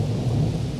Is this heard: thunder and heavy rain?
yes